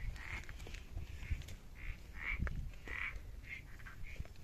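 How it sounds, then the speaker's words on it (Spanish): Frogs croak repeatedly in a steady rhythm, several calls in a row at moderate distance over a low outdoor rumble. "Yo escucho la rana."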